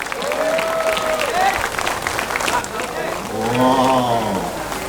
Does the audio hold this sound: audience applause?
yes